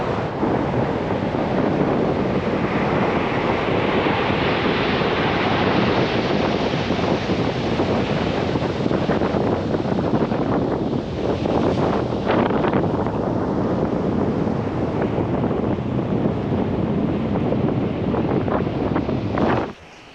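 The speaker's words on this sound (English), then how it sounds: "I'm gonna sit here and enjoy these waves." Ocean surf rolling onto an empty Outer Banks beach, with strong wind buffeting the microphone in a steady, loud roar that continues unbroken for about twenty seconds, with no voices.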